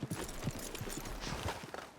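Horse hooves clip-clop in a steady walking rhythm in Red Dead Redemption 2, fairly close and moderately loud over a low ambient bed, with no talk.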